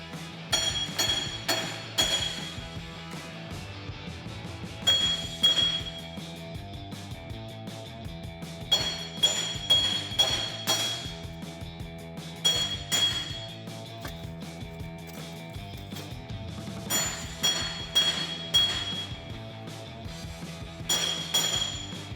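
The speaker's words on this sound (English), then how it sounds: "Now we can give this a couple good whacks." Sharp metallic clanks ring out in irregular bursts, ball peen hammer blows on the steel front axle hub of a Jeep Wrangler JK, with bright, lingering ringing tones between strikes.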